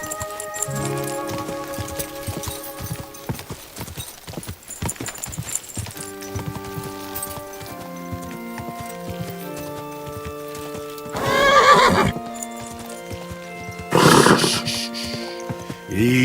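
A horse in the medieval game Kingdom Come: Deliverance II neighs in long pitched whinnies and trots with rhythmic hoof clops, set against bursts of rain-like noise, loud and close throughout.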